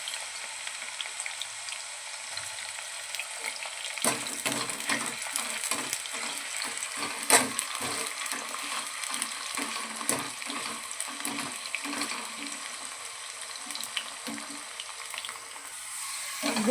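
Potato pieces frying in hot oil for french fries, a steady sizzle that turns busier after about four seconds as more pieces go in, with scattered clinks and scraping of a utensil in the pan and no voices.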